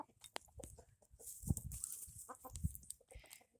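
Chickens cluck and peck while eating kitchen scraps of blueberries, green beans, chicken and filling, with soft, irregular clucks and pecking taps close by, fairly quiet, and a couple of sharper thumps in between.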